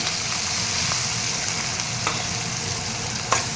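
Chopped green chillies, curry leaves and onion fry in a pan of oil for carrot avalakki, giving a steady, close hiss and sizzle with a few faint clinks of a spoon or pan.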